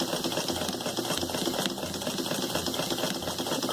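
Sewing machine stitching along the seam line of a shirt collar, a steady close whirring hum with rapid needle chatter running continuously under a faint background, no talk.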